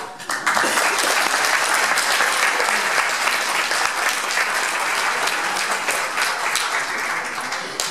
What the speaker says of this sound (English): We just hold the applause.